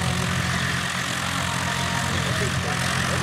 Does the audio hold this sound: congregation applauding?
no